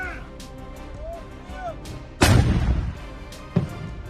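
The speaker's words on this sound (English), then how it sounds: "US and UK supplied L-119 105mm light gun in Ukrainian service." An L-119 105mm light gun in Ukrainian service fires one loud, heavy boom with a rumbling tail near the middle, followed by a second sharper thump a moment later over a quieter background.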